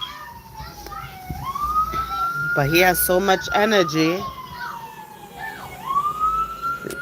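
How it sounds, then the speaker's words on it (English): A siren wails steadily in the distance, heard through an open window, rising and falling, while a person talks briefly over it. "The sirens, it sounds like I'm outside, right?"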